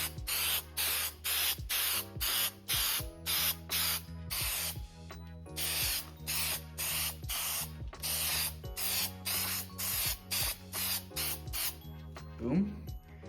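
Repeated short bursts of spray adhesive hissing from an aerosol can in a steady rhythm, a dozen or more sprays, loud and close, with brief pauses between, inside a truck topper camper.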